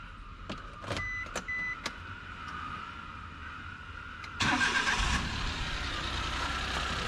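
A Suzuki Every Wagon with a turbo K6A engine starts: a few short clicks and chimes come first, then the engine catches with a sudden close burst and settles into a steady idle.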